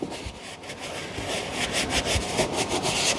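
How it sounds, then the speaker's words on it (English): Scrubbing on a Ninja WoodFire outdoor grill surface being cleaned with Goo Gone, a steady rough back-and-forth rubbing at moderate level with no break. "I have to do a little more scrubbing on the Goo Gone side."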